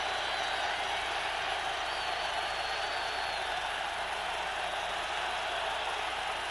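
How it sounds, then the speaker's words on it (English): Stadium crowd at the Oakland Coliseum during a 1989 NFL game between the Raiders and the Bengals, a steady, distant wash of crowd roar throughout. "Crowd noise in the Coliseum"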